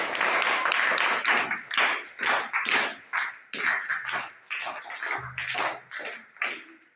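Classroom applause from a group of schoolchildren congratulating a classmate, with a steady burst of clapping that rises and falls in waves and carries on for several seconds without speech.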